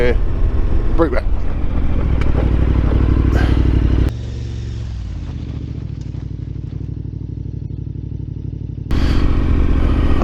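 A motorcycle rides along a dirt road at about 25 to 30 mph, its engine droning loud and steady, then easing off under braking as the revs drop before picking up again, with some clatter from the bike.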